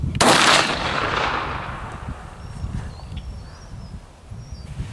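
A single loud Remington shotgun blast cracks sharply outdoors, then rolls away in a long fading echo with faint bird chirps afterward.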